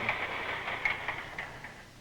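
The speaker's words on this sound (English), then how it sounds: "Oh, what is all this clickety-clack?" A train rolling along the rails with a steady rumbling clatter and faint rhythmic clicks over the top, moderately loud and continuous, with no voices.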